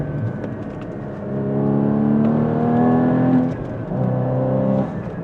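A Porsche 981 GT4 engine blips and rises in a strong, close rev on a downshift to first gear for a hairpin, then dips briefly and climbs again.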